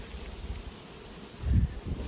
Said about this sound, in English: Got a European hornet over here.